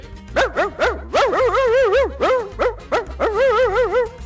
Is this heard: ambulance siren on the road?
no